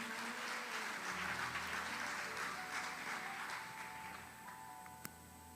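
A church congregation claps during a worship service, a faint, dense wash of applause that swells and then slowly fades, with a low sustained musical tone underneath and one sharp tap near the end.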